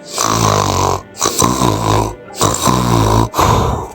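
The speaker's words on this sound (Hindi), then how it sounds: "उल्टा पड़ा अपने घोंसले में खर्राटे ले रहा था।" A cartoon bird snores loudly and roughly in three long rasping breaths with short pauses between them.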